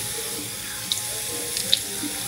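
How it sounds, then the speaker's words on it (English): Warm tap water runs into a bathroom sink while a face is rinsed, a steady close splashing stream with a few brighter drips and plops and no talk. "You're going to rinse with hot water."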